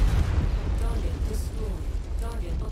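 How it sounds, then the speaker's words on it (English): In the MechWarrior 5 Mercenaries video game, an ammunition explosion rumbles as a deep, loud boom that fades into low rolling crackle, with voices over it. "Ammo explosion detected."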